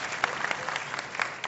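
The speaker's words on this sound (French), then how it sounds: "Applaudissez pour elle, la paix." An audience claps in a brief burst of applause, with dense, moderately close hand claps that last barely a second and a half.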